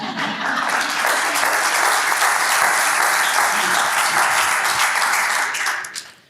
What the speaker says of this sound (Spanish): un aplauso al señor del micro